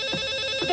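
A telephone rings in a sitcom kitchen scene, a steady electronic ring with a sustained tone alone for under a second, fairly loud and close.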